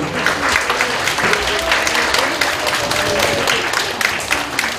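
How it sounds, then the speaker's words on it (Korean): An audience at a book-launch talk show claps steadily and fairly loudly, a dense, even wash of applause with brief speech mixed in. "박수 주시죠"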